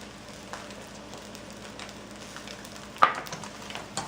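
Vegetables (white onion, green onion, tomato, carrots) stir-fry for Thai fried rice, giving a low steady sizzle with a sharper clatter of stirring partway through, close but fairly quiet.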